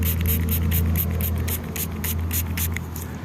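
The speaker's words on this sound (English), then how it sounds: "Give it another spray." A hand spray bottle spritzes a freshly dug-up ring, probably silver, in a rapid, rhythmic series of about a dozen short hissing bursts over a low steady hum.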